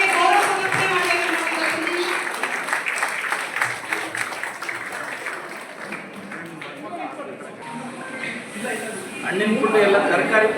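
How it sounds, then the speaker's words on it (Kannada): Loud, sustained applause from a crowd honouring soldiers at a Karnataka farmers' felicitation ceremony, steady clapping throughout with crowd chatter mixed in, swelling again near the end. "ದಯವಿಟ್ಟು ಜೋರಾದ ಚಪ್ಪಾಳೆಯೊಂದಿಗೆ ಅವರಿಗೆ ಗೌರವ ಸಮರ್ಪಣೆ ಮಾಡಬೇಕು."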